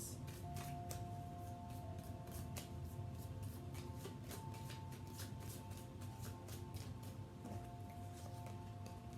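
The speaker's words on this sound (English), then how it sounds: "let's shuffle so it can just be fair" Repeated soft riffling bursts of tarot cards being shuffled, a steady papery flutter over a constant low hum, with no talking.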